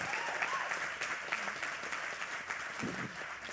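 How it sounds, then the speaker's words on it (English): A round of applause from a small audience, steady clapping at moderate volume sustained throughout with no talk over it. "Yeah, round of applause, why not?"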